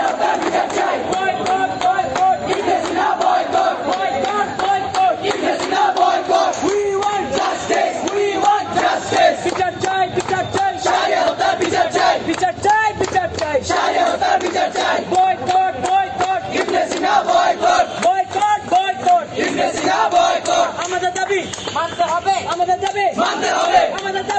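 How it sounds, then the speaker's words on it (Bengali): A large crowd of students in Bangladesh chants a protest slogan demanding justice for a friend's killing, loud and continuous at close range with no pauses, the massed voices rising and falling together in rhythm. "সব শিক্ষার্থীর একটাই স্লোগান বিচার চাই বিচার চাই আমার বন্ধু হত্যার বিচার চাই"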